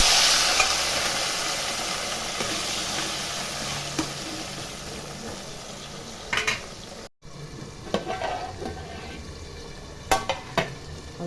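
Quarter kilo of cut potatoes and vegetables frying in oil for a Tamil veg brinji, a steady close sizzle with a few clinks of a utensil stirring the pan, no voices.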